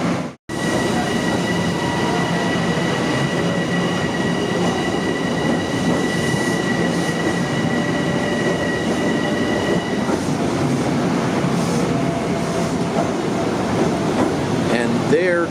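An LIRR M7 electric train set pulls away from a station platform, a loud continuous rumble with steady electrical whine and hum, growing rougher with faint wheel squeal toward the end.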